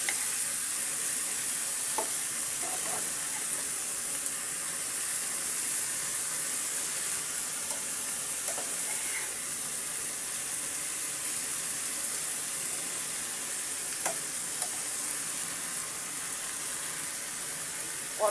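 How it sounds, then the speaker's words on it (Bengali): Bitter gourd being stir-fried in a pan gives a steady, close sizzle of hot oil, with a few faint scrapes and clinks of the spatula turning the slices now and then. "করলাটা আমি সুন্দর করে নেড়ে দিয়েছি"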